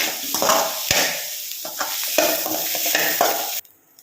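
Grated coconut is stir-fried in a pan with brisk, close scraping strokes over a steady sizzle. The rapid stirring runs for about three and a half seconds and then stops abruptly.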